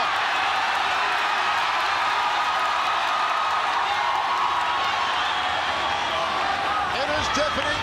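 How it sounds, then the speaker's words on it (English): Loud, steady roar of a live crowd at a ONE Championship MMA fight in Bangkok, a dense continuous wall of cheering that fills the whole stretch with no break. "This crowd going nuts here in Bangkok."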